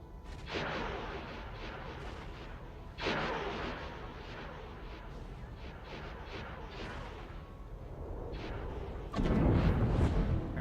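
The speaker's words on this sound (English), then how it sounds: "Alright, they've learned how to use the guns." Capital ships in X4 Star Wars Interworlds fire their guns in space combat, heavy booming shots arriving in spaced bursts with a louder blast near the end.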